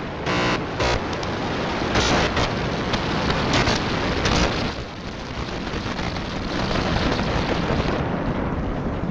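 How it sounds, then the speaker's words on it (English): SpaceX Starship rocket at liftoff, a massive continuous roar with crackling broadband rumble that stays loud and dense throughout, dipping slightly midway before swelling again. "We have liftoff."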